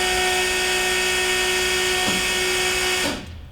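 An electric fuel pump on a big block Corvette gasser runs with a loud, steady high whine, broken by a faint click midway, and cuts off abruptly near the end.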